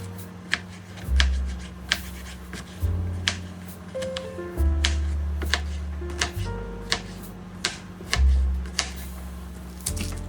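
Knife chopping onion and other vegetables on a cutting board for coconut soup: a run of sharp, irregular taps close by over a steady low hum.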